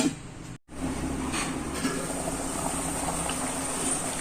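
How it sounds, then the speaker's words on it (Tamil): Fish curry boiling in a pot on the stove, a steady close bubbling and simmering hiss that runs continuously after a brief dropout near the start, with no talk over it. "குழம்பு நல்லா கொதிக்குது."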